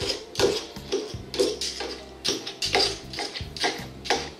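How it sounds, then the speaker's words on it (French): A fork and knife chop grilled garlic, chili, tomatoes and peppers for a Tunisian salad, giving a quick series of close, crisp taps and scrapes in an irregular rhythm. "on va commencer par tout hacher à la fourchette et au couteau."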